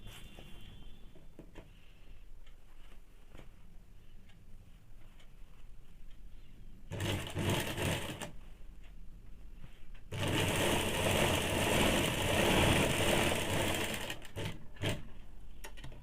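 A sewing machine stitches the back panel of a high-neck blouse, running half-inch seams over the darts. It comes as a short burst and then a longer steady run, loud and close, with no talking.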